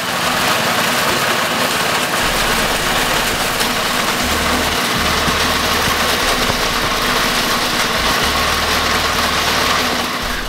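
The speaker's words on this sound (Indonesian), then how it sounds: "dipipil dengan mesin pemipil pada kecepatan sedang agar biji tidak pecah atau retak" A corn sheller machine threshing maize kernels at medium speed runs steadily for the whole stretch, a loud continuous engine drone with a low rumbling hum and constant mechanical noise and no breaks.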